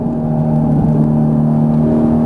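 Ferrari 458 Italia engine on the Las Vegas Raceway track, a loud, steady high-revving drone with a strong tonal hum that holds throughout under braking and a downshift, with no talk over it.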